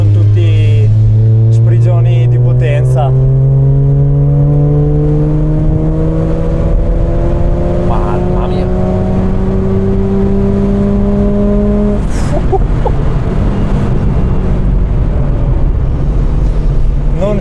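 Mazda RX8 rotary engine revving hard past 9000 rpm, a loud, close, rising whine that climbs steadily for about twelve seconds, then drops at a gear change and builds again.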